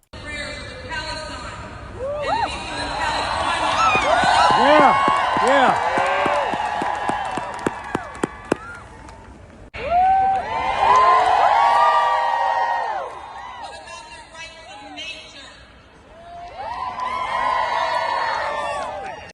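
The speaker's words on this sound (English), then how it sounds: "Here's the crowd." An outdoor crowd cheers and whoops loudly in cold weather, in long swelling bursts of shouts and whistles, with brief lulls and a few claps between them.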